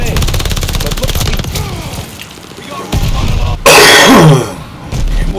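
Rapid automatic gunfire in a Call of Duty match, bursts of rattling shots with a loud blast near the end, mixed with a player's shouted callouts.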